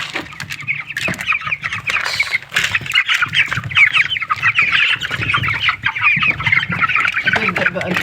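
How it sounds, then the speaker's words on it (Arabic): A flock of chickens crowds around a pile of feed mixed with onion, clucking and chattering steadily and close, a busy continuous layer of poultry calls with some background noise. "تبدا بقى الفراخ هنا تتجمع على العلف وتبدا تاكل"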